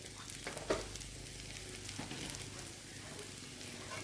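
Bitter gourd and potatoes frying with garlic and cumin seeds in an Assamese home kitchen, a steady soft sizzle throughout with a brief louder crackle near the start.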